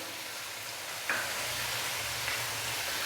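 Chicken frying in a pan with salt and a coarse cumin and black pepper powder, being mixed: a moderate continuous sizzle with a couple of brief scraping stirs, no voices.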